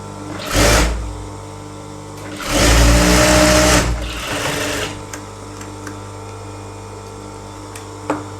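An electric sewing machine stitches a child's elastic trouser in short, loud whirring bursts, one brief and one longer, with quiet motor hum and small clicks between runs.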